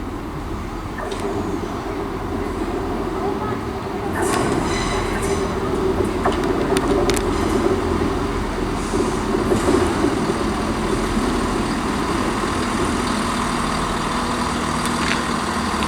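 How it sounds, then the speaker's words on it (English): A delayed ScotRail passenger service from Aberdeen to Glasgow Queen Street rolls into Perth station, with a steady rumble of wheels on rail building louder and sharp metallic squeals and clanks partway through. "train approaching now is going to be the delayed 1316 ScotRail service from Aberdeen to Glasgow Queen Street"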